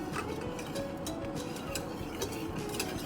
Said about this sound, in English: I have to whisk constantly for 5 minutes